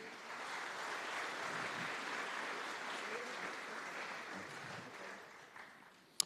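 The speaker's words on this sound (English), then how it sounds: "Ladies and gentlemen, if you can, round of applause for Chris." An audience at a tenth-anniversary celebration claps together in a sustained, even round of applause that stays strong for most of its length, then thins and fades toward the end.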